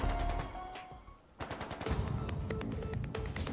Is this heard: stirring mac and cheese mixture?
no